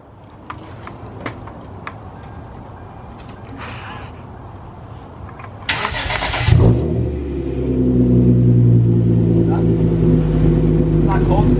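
A Hyundai Genesis Coupe fitted with an ISR race exhaust starts up: a brief cranking whirr, then the engine catches and settles into a loud, steady, deep idle burble, close by, with some rustling and voices before the start.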